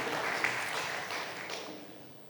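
Quiet, distant applause from an assembly audience at a religious gathering, a steady soft patter of many hands that slowly thins out over two seconds.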